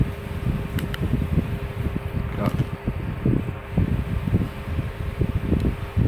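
A portable air conditioner without an exhaust hose runs with a steady, loud fan whoosh and hum, while a voice speaks briefly over it.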